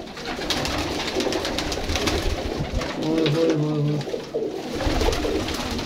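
Pigeons in a paired breeding cage make soft, low cooing calls over a busy background, with a clear cooing phrase near the middle. Other birds and general ambient noise are heard around them.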